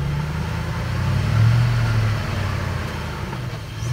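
Steady low engine drone from a 2003 Chevrolet Suburban with a rebuilt 4L60E automatic transmission, held in first gear while driving, a rising hum that swells mid-clip and eases, with road rumble and no talk.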